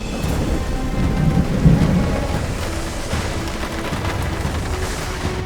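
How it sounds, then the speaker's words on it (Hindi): Cartoon rainstorm: a steady, loud wash of rain on a surface with a deep rolling thunder rumble swelling early and fading, no voices. "अचानक बारिश शुरू हो गई।"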